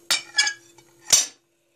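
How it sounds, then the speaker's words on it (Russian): A plate set down over a bowl of kefir bun dough in a home kitchen gives a few sharp ceramic clinks and knocks, close and clear, with no voices. "закрыть тарелкой. Вот тарелка так."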